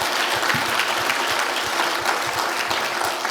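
Steady applause from a crowd at a South Florida Muslim community gathering, welcoming a fire chief; dense even clapping fills the whole clip with no talk.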